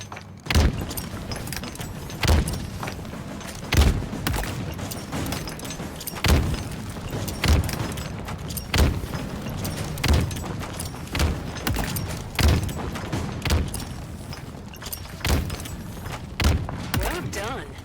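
Grenades bursting against targets in the Halo Infinite training arena, a steady series of sharp thuds and booms roughly every second or so, repeated across the whole stretch with faint game ambience beneath.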